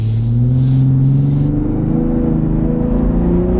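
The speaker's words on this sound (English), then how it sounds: "So here's a little acceleration pull with the exhaust in Baja." A 2022 Ford Raptor pickup with its exhaust in Baja mode revs and accelerates at about half throttle close by, a loud steady exhaust rumble rising in pitch over a few seconds.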